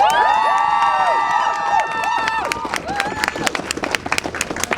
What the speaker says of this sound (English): Let's have a round of applause for that, guys!